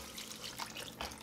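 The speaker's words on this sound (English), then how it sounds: "I'm gonna pour our chicken broth in here." Chicken broth pours into a soup pot with a soft, continuous liquid splash and gurgle, close by and fairly quiet, and no one talks over it.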